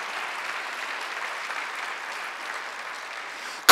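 Congregation applause during a Sunday worship service at a church, a steady, dense clapping that carries on evenly for several seconds, with a sudden loud burst right at the end.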